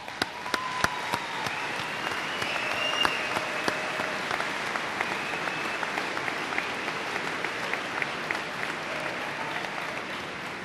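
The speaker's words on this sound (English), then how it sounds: "please stand up at this time and join me in giving an extra round of applause to our newest graduates." A crowd at a university spring commencement gives a long, sustained round of applause for the new graduates, a dense steady clapping that fills the room with occasional sharper individual claps, with no speech over it.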